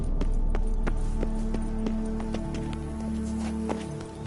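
Roach the horse galloping in The Witcher 3, a rhythmic run of hoof clip-clops over a steady low game ambience.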